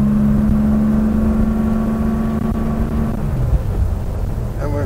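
A Porsche 911 with a freshly repaired transmission pulls steadily in third gear, its engine giving a loud, continuous drone with a strong low hum throughout and a slight dip near the end.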